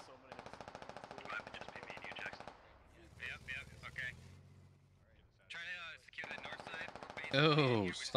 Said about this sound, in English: We're still taking a decent bit of AR fire